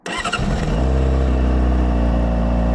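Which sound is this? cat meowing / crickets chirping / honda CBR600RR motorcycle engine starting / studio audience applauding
honda CBR600RR motorcycle engine starting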